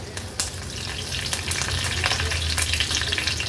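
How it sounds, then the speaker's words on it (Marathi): Curry leaves hit hot oil already crackling with mustard seeds, cumin and a pinch of asafoetida. A loud, close, continuous sizzle is broken by sharp, scattered pops and spits, with no voices. "राई जिरं तडतडलं का थोडी कढीपत्त्याची पानं घालूया।"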